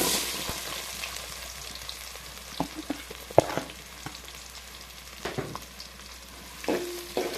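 Oil sizzles steadily as onions and chillies fry in a pan, with occasional clacks and scrapes of a stirring spoon against the metal.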